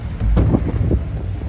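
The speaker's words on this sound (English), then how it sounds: "bit windy" Wind buffets a microphone at the beach, a loud low rumbling roar with gusty surges and no voices.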